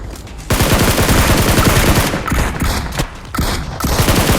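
Rapid automatic gunfire in BGMI PUBG Mobile, loud dense bursts of shots with brief pauses between volleys, no voices.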